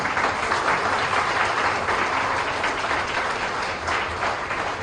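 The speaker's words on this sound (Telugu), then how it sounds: "గట్టిగా కొట్టండి చప్పట్లు" An audience claps loudly in sustained, dense applause that holds steady before easing slightly toward the end.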